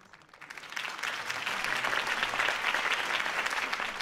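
A crowd claps in the Batman: The Telltale Series video game, applause swelling from a quiet start into a steady, dense roar of many hands that holds to the end.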